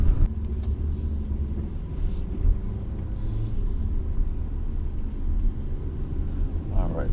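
A 2024 Alfa Romeo Tonale plug-in hybrid drives along, a steady low road rumble and tire noise from inside the cabin, with a person talking over it throughout.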